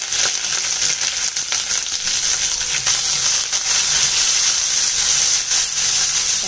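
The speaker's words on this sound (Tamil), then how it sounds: "பச்சை மிளகாய் நைட்டாக வதங்கிடுச்சு" Green chillies with curry leaves, ginger, mustard seeds and cumin sizzle steadily in hot oil, a loud, continuous broadband hiss and crackle with no speech.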